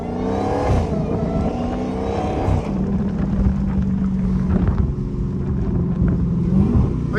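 A Dodge Hellcat driven hard through city streets, its engine droning steadily loud and close, with a revving surge early on followed by a sustained lower roar as the car holds speed, and no voices.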